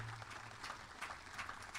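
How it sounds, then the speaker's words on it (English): Steady applause from a commencement crowd for student award winners at a college graduation ceremony, a dense, continuous patter of many hands clapping at a moderate distance, with no voices over it. "Let's have another round of applause,"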